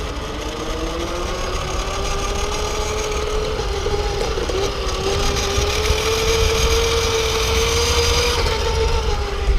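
A GoPed I-Ped 2 motor scooter on the move under trigger throttle, its motor whining steadily and close, the pitch rising slightly as speed builds, with a constant rough drone underneath and no talking.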